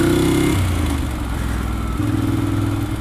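A motorcycle engine hums loudly and steadily while being ridden. The pitch drops and rises at two points, like gear shifts, with no voices.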